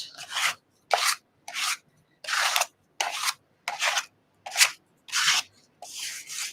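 A credit card scrapes paint around a surface in layered artwork, making about ten rasping strokes in a steady rhythm with short silences between them, close and clear, with no talking.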